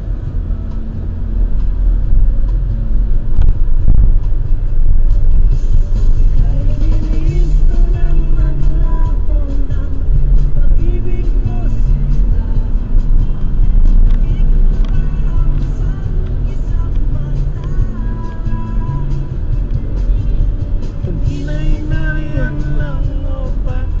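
A car driving along a road, with steady low engine and tyre rumble running continuously and fairly loud throughout, while people inside talk now and then over the drone.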